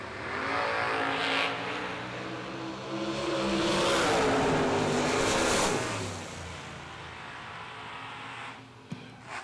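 Two roadsters, a Corvette and a Camaro, launch and run side by side down a drag strip in a race, engines roaring loud and sustained, swelling as they pass, then fading away.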